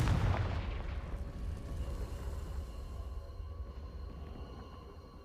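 Confringo spell blast in Hogwarts Legacy: a loud booming explosion at the start, followed by a long rumbling decay that fades over several seconds.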